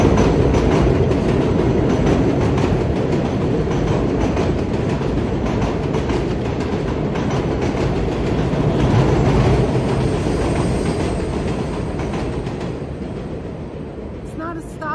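A New York City subway train runs straight through a station without stopping, a loud continuous rumble with rapid clattering wheels that stays close for most of the stretch before easing off near the end.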